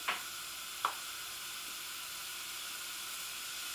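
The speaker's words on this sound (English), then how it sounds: "Starting to sizzle" Steady sizzling hiss of courgettes frying in olive oil in a hot pan, with two brief clatters near the start, continuous and fairly close.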